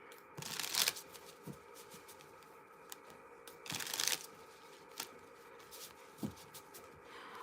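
Tarot cards being shuffled close by, two main flurries of soft papery riffling with lighter flicks and taps between them, fairly quiet overall and with no voices.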